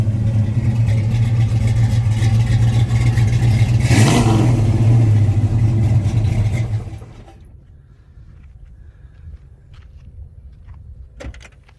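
A restored 1967 Chevrolet Chevelle's 355 V8 engine rumbles loudly and close, steady, and swells in one rev, then cuts off, leaving quiet background with a few faint clicks and knocks.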